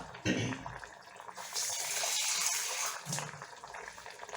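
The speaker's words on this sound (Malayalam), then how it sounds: "അതിന് വേണ്ടി കുറച്ചുകൂടെ വെള്ളം ചേർക്കാം" Water poured into a simmering fish and potato curry, a splashing, gushing pour that comes in bursts, with voices underneath.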